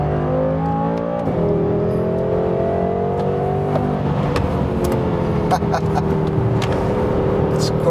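A 575-horsepower BMW M6 Gran Coupe accelerates hard after a downshift, the engine note climbing steadily in pitch then dipping at a gear change before rising again, heard from the cabin with a few faint clicks.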